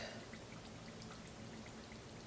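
Very hot water is poured steadily into a container for instant potato flakes, a soft continuous splashing stream heard close and alone.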